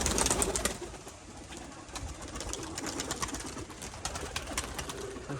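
A flock of pigeons at a loft fills the scene with a steady wash of cooing, rustling and wing flutters, dense and continuous, with no voices over it.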